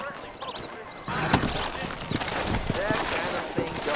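Horse hooves clip-clop steadily on a dirt street in Red Dead Redemption, with several horses moving in a rhythmic trot and a voice talking over them.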